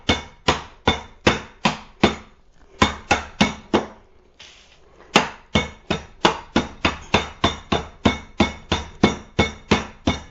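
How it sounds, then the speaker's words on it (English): A rolling pin crushes leftover candy canes in a long run of sharp, evenly spaced thuds, loud and close, with one brief pause near the middle before the steady pounding resumes. "So I'm going to take my trusty roller here, make a lot of noise."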